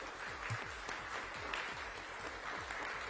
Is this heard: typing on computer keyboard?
no